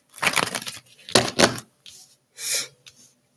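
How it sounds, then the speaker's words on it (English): Several bursts of brisk papery riffling and slapping as tarot cards are shuffled up close, separated by short quiet gaps. "Let me shuffle this one more time."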